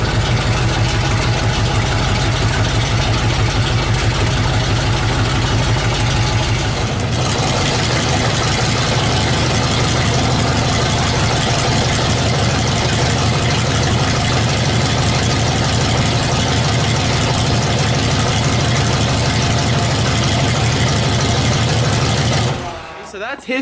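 A truck engine fires up after the fuel pump kicks on, then settles into a loud, steady idle close by with a low rhythmic throb. It continues unbroken for about twenty seconds before cutting off abruptly.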